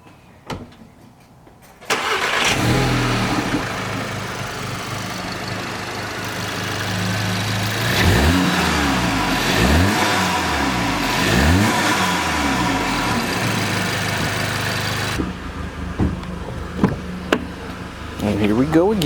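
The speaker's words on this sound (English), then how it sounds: "we're going to see if it actually improves any of the intake noise that you get" A VW MK7 GTI fitted with an APR carbon fiber intake starts up and idles, then revs repeatedly, with the engine rising and falling several times before settling; a person speaks partway through.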